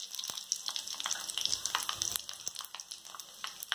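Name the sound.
fenugreek seeds and cumin sizzling in hot oil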